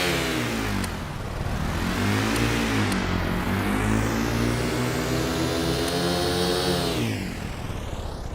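A vehicle engine in Stormworks runs loud and steady, revving up and down through gear changes with a strong harmonic drone, then drops in pitch near the end; no talk over it.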